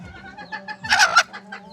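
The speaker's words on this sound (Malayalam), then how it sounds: "നല്ല കോഴിയാണ്" A two-year-old hen clucks in short repeated bursts, with a louder, harsher squawk in the middle, close by.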